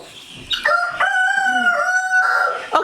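A rooster in a chicken house crows a single long, loud cock-a-doodle-doo lasting nearly three seconds, close by and clear, with no talking.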